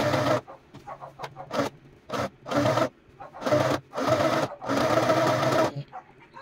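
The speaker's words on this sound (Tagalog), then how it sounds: "So, ngayon, magtatahi na ako." A portable sewing machine stitches fabric in short repeated bursts of loud mechanical whirring, separated by brief pauses, close to the listener.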